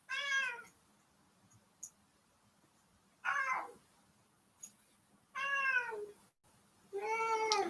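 Four drawn-out cat meows, loud and close, come one at a time with pauses of quiet between them.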